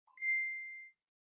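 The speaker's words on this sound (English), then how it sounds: "Hold on. I just got a text message." A text message notification on a phone: a single clear electronic ding that rings out briefly and fades, heard alone in silence.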